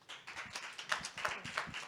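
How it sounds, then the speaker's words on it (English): Brief applause from a conference audience, a soft, fairly distant patter of scattered hand claps with uneven rhythm, lasting under two seconds. "I also like the fact we're applauding everyone"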